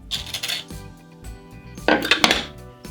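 Fresh ginger root is rubbed against a hard shark skin grater in a kitchen, making rough, uneven scraping rasps in short bursts, close up with no voices.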